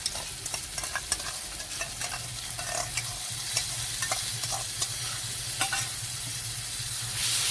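Yogurt stirred into a sizzling spice mixture in a frying pan, with steady hot-oil crackle and repeated scraping stirs throughout, close and alone without any voices.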